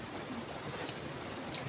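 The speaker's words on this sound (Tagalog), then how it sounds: "Malakas po ng ulan dito sa Bicol." Heavy rain from Typhoon Kristine in Bicol, a dense, even hiss of falling rain, steady and fairly faint over a brief stretch.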